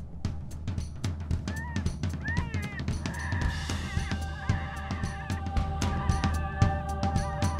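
Wild birds call in open Montana country, with crows cawing in rough repeated bursts and other warbling calls over a low background rumble, moderately distant.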